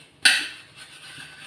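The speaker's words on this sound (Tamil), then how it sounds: "பாத்திரம் கழுவுறேன்." Dishes being washed in a small sink, a single sharp clatter of cutlery and pots up close followed by a faint fading rattle.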